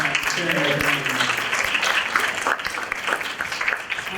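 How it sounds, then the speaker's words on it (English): An audience at a summit applauds steadily, a dense wash of clapping with a voice speaking over it at the start. "Let's give them one more applause."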